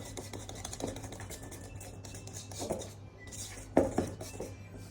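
Spoon or whisk scraping and clinking against a bowl while marble cake batter is mixed, with steady rubbing strokes and a couple of louder knocks near the end, no talking.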